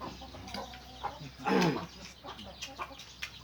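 Chickens cluck around a rural home, with one loud, close cluck at the middle and softer scattered clucks and quiet background noise.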